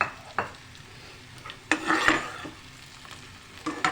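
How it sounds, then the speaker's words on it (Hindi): Potatoes frying in oil, a soft sizzle broken by several sharp scraping and clinking stirs against the pan, close by, no talk. "सबसे पहले मैं इसे ऑयल में डाल के जो है ना, आलू को हमें फ्राई करना है।"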